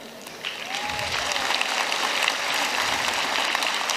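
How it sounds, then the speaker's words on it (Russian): A crowd applauds volunteers at the closing ceremony of the Children of Asia 2024 games in Yakutsk, swelling into a sustained, dense clapping that grows slightly louder after the opening moments. "Похлопаем волонтерам нашим."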